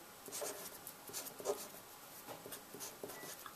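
A pen scratching out a physics equation by hand on paper, soft irregular strokes and taps close by, quiet and unbroken by talk.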